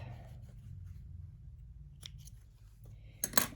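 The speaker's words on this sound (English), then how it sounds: "So I'll cut my leader off." Scissors snipping a paper strip, a quiet rustle followed by a brief crisp cut and a sharper snip at the end, close and faint.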